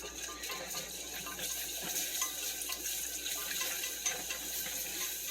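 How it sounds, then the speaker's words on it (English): Milk poured slowly into a pan while being stirred for crab macaroni and cheese sauce, a steady close liquid rush with faint clinks of stirring and no talking. "start adding in the milk very slowly and stirring at the same time"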